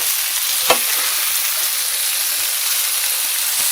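Canned lentils being mixed in a hot pan give an even, hissing sizzle, with a single clear knock of a utensil near the start and a faint tap near the end.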